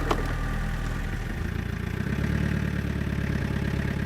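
A car engine idles nearby with a loud, steady low rumble and faint clatter that holds evenly throughout, with no talking.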